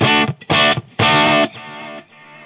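Squier Classic Vibe Telecaster on its bridge pickup through a slightly driven Marshall Plexi head, heard as loud, gritty chord strums in three bursts, with the last one left to ring and fade.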